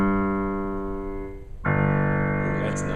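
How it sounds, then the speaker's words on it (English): A low G is played on the piano with the left hand, and its sustained harmonic tone slowly decays until a second, louder low note is struck partway through and rings out. "I'm only going to play G in my left hand."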